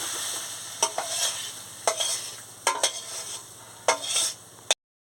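Cucumber and potato chorchori is stirred in a pan: close, repeated scraping strokes about once a second over a soft sizzle, with no voices.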